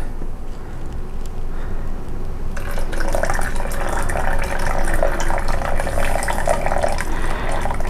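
Meat grease being poured off through a lid with holes into a container in a home keto kitchen, a steady liquid pour that starts partway in and runs continuously to the end, close and fairly loud.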